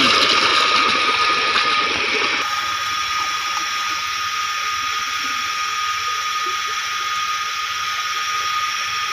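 A water pump motor runs on a farm with drip irrigation, giving a loud, constant whooshing hiss of rushing water and machine hum that carries on unbroken throughout.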